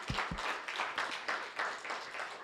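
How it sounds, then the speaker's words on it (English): A round of applause from a meetup audience thanking the organizers of a Python user group, a few sharp claps at first then steady dense clapping throughout, moderately loud and continuous. "I wanted a loud round of the applause for all of the organizers."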